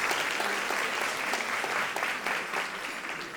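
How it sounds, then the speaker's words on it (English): Applause from the audience at a Latin women's initiative luncheon, a dense, sustained clapping of a large crowd at steady loudness that tapers slightly toward the end. "You can now give a big round of applause for all of them."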